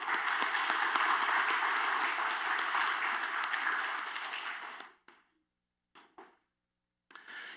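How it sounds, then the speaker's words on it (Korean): Dense, steady applause from a church congregation at a Sunday worship service, honoring the choir and praise team, fills the first five seconds, then fades quickly to silence with a few faint scattered claps at the end. "축복하고 격려하는 박수 하겠습니다."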